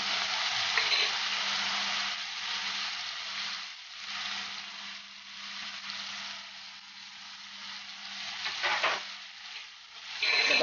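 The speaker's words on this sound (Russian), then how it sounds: "Морковочку и размешиваем." Carrots added to softened onions are stirred and fried in oil in a pan, a steady close sizzle with scraping stir strokes rising and falling throughout, no one speaking.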